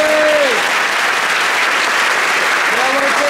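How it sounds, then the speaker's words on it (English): A high school band and chorus winter concert audience gives loud, sustained applause and cheering, a dense roar of clapping throughout, with a brief whistle-like tone near the start and end. "Give them a huge round of applause."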